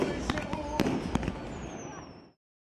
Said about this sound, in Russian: А в завершении выступления небо над Красногорском озарил салют.